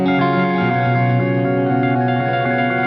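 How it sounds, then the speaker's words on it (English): A synth tone run through an effects unit with its wave shape set to square and the activity turned all the way up gives a steady, buzzy, harmonically rich drone with a slight echo, sounding alone and close. "change the wave shape to square wave"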